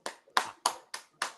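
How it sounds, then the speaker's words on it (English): Five sharp hand claps land in a steady, fairly quick rhythm, each crisp and close with a short decay, standing alone in a quiet room. "Jacob's clapping"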